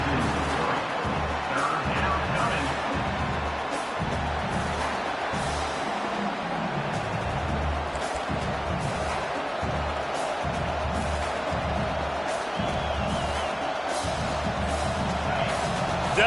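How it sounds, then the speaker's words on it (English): Stadium crowd at a Texas football game roars on a 3rd down defensive stand, a dense, loud sustained wall of cheering with shouts and whoops, a commentator's voice faintly mixed in. "Decibels rising as the crowd gets behind this defense on 3rd down"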